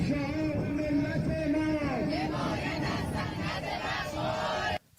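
A large crowd of Iranians gathered on a bridge shouts and chants together, a loud, sustained roar of many voices that continues steadily before cutting off abruptly at the end.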